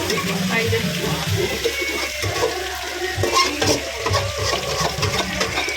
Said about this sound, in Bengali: এখানে পকোড়া ভাজা হচ্ছে আর চিকেন কষানো হচ্ছে